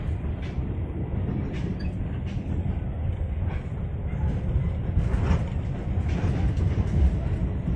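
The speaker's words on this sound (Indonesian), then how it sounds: "kita bisa merasakannya dengan ciri-ciri suaranya menggema banget suara keretanya" Steady, heavy rumble of a train rolling through a single-track railway tunnel between Jakarta and Bandung, booming and reverberant, with faint rattles and clanks over the continuous low roar.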